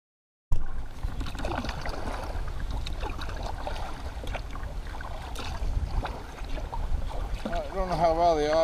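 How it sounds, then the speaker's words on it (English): Strong wind buffets a small boat on a lake with whitecaps, a steady rough rush of wind and water noise running throughout, with a brief tonal warble near the end. "The wind has picked up. Got whitecaps on the lake."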